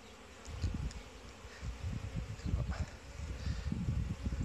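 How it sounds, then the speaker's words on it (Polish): Many honeybees buzz close by in a continuous, fluctuating drone, wings humming around the hive in an apiary, with faint rustling. "Pszczoły super latają."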